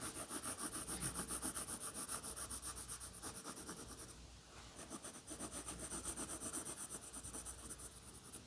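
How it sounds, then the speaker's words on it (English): Steady scratchy rubbing of a pencil coloring on paper, close and continuous with quick back-and-forth strokes, a brief pause midway, no talking. "I'm going to continue to color just around the outside of Mr. Potato here."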